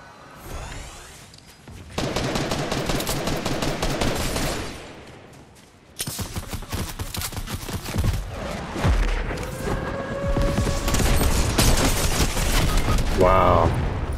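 Loud bursts of rapid gunfire and repeated shots from Fortnite play nearby and at a distance, stopping and starting across the stretch, with brief player chatter underneath.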